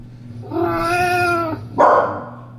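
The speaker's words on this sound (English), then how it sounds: "You can hear non-stop meows by purchasing the unlimited meows feature." A sustained, tonal cat meow plays from an Alexa smart speaker, drawn out for about a second, then a brief noisy rustle or thump follows, loud and close.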